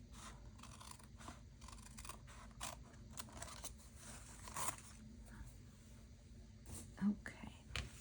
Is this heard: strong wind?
no